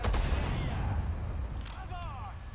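Artillery fire in the video game Sudden Strike 4 rumbles as low booms under a dense battlefield din, with a brief sharper burst midway and voices chattering faintly in the game mix.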